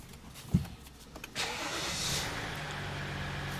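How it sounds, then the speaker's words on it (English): A Dodge Ram pickup truck is started after a power steering fault from jump starting: a click and brief crank, then the engine catches and settles into a steady low idle, close by. "Let's start the truck."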